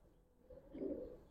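Giribaz pigeons with silver-pattern plumage coo in a low, soft swell that rises near the end, close by and alone.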